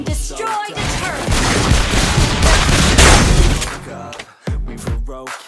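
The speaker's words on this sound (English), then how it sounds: "Your team destroyed the turret." Mobile Legends game audio erupts in a loud, dense clash of blasts and crackling impacts as a turret is destroyed, then fades before a sharp burst of game voice and effects.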